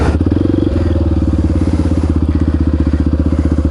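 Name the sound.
Honda XR650R supermoto engine lugging below idle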